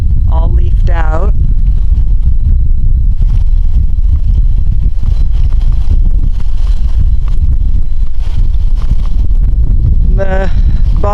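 Wind gusts through a backyard garden with a bog area, making a loud, continuous low rumble and buffeting. A voice is briefly heard near the start and end.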